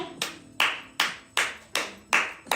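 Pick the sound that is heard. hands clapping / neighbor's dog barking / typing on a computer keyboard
hands clapping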